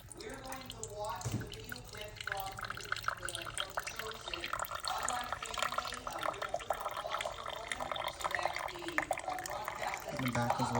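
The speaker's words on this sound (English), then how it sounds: "Add the water." Water poured into the reservoir of a Cuisinart pod coffee maker, a soft continuous trickle and splash heard at low level beneath a person talking.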